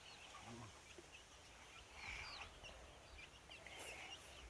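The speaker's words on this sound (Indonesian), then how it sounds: "Itu ayam biasa." An ordinary chicken clucks faintly in short bursts at an orange orchard in Barusjahe, soft and somewhat distant amid low outdoor background noise.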